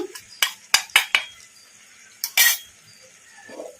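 Metal spoon scraping and clinking against a pan while chicken fry masala is stirred, several sharp knocks in quick succession, a pause, then a couple more scrapes, close and otherwise quiet.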